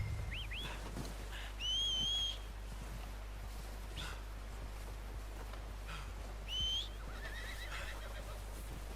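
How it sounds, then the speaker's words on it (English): A horse in Red Dead Redemption 2 whinnies twice, short bright calls rising and falling, separated by quiet stretches over a steady low background hum; no talking. "Já sei que o meu cavalo atende aos meus pedidos."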